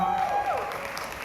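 Audience applause at a press conference announcing the Miss Grand Thailand 2022 pageant, a dense wash of clapping that fills the short moment, steady and moderately loud, with a thin tonal whine running through the start.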